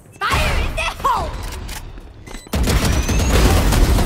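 A Valorant in-game ultimate explosion erupts as a loud, broad blast that sustains dense rumbling for over a second after a short burst of shouted voice and gunfire-like hits.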